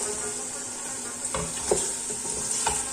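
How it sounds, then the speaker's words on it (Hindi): Mutton pieces frying in a pot for korma, a steady close sizzle with a few light stirring clatters of a spoon against the pot. "अब गोश्त को फ्राई करेंगे 1 से 2 मिनट।"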